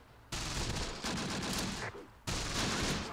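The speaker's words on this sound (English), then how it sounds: "Strafe this enemy machine gun nest." Heavy sustained gunfire from an air strike strafing a machine gun nest in a Second World War D-Day game, loud continuous bursts with a short gap before another long volley.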